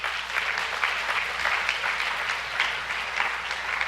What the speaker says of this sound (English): let's give a round of applause for the parents and family.